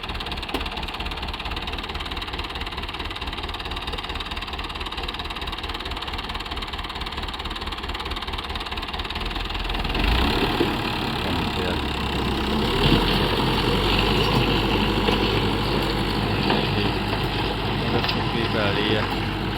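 Diesel tractor engine running steadily in an open farm field during sowing, a continuous low knocking idle that grows somewhat louder and rougher about halfway through, with someone talking over it.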